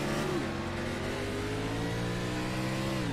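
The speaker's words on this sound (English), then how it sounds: "I'll be able to hear the engine." An Xfinity Series stock car engine, heard onboard during the Georgia Peach 125, drones loudly at a sustained high pitch, with its tone dipping slightly and then holding steady under continuous road and wind roar.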